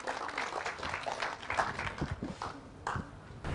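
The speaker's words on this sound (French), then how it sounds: "Vos acclamations, messieurs, dames." An audience at a French spoken-word declamation show claps and cheers, uneven bursts of hand claps with sharp transients rising and falling, loud and close, with a brief lull before a fresh surge.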